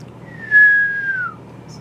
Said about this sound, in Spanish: silbe